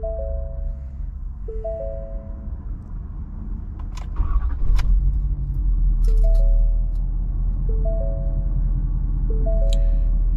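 A pickup truck with a 6.7 engine cranks and turns over, then settles into a steady, loud, low rumble that carries on to the end, with a few small clicks and rattles nearby.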